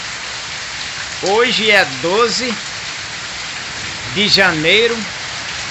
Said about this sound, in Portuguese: Essa aqui é a segunda chuva de janeiro, hein?